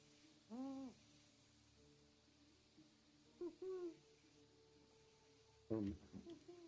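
Three separate soft, low hoots ring out with pauses between them, an owl call in the game Medieval Dynasty, over quiet background hum.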